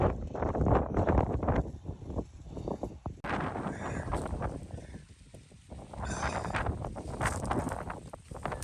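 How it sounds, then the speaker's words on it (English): Strong backcountry wind buffeting the microphone during a mule deer and whitetail hunt in Washington State, a loud roaring rumble that surges and eases in gusts, with no voices. "the wind's ripping"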